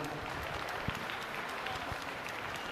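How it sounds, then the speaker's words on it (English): Audience applause at a youth swine showmanship class as kids leave the show ring, a steady, distant wash of clapping from a crowd in an arena, with a couple of sharper claps standing out. "give these kids a round of applause as they leave that ring"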